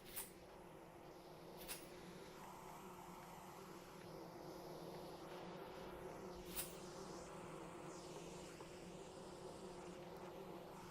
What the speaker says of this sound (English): Ooh, I hear bees, don't you?